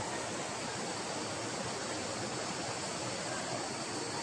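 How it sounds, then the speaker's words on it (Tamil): Water streams over rocks in a forest at Paralikadu, a dense, even rushing hiss that holds at a steady level throughout with no other sounds. "தண்ணி ஓடிட்டுருக்குது."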